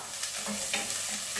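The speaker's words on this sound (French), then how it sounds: "je viens de mettre mes échalotes dans l'huile chaude" Shallots hitting hot oil in a pot for one-pot pasta with sausage and pesto, a brief close hiss of sizzling with a soft scrape of stirring.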